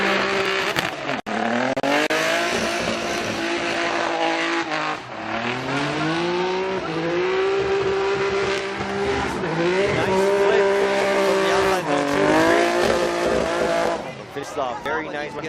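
Tetsuya Hibino's number 111 Nissan Z drift car at a Formula Drift Japan qualifying run, engine revving hard with rising and falling pitch and tire squeal throughout, loud and continuous beneath an announcer's commentary.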